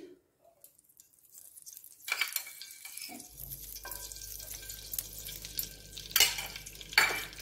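Ghee hits hot oil in a pan and breaks into a soft, steady sizzle after a moment of quiet, with a few scraping stirs and clinks through the crackle.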